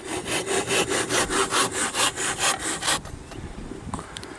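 A handsaw cuts through wooden box bottoms in a quick, even rhythm of about a dozen rasping strokes, close and loud, then stops abruptly, leaving a few faint taps and quiet outdoor ambience.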